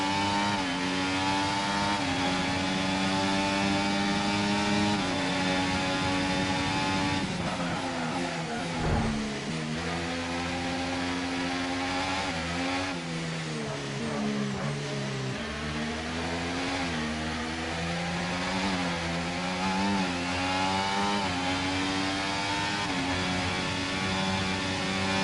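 Racing car engines scream continuously through a video game race, with rising and falling pitch as cars accelerate and shift, loud and sustained with no voices over them.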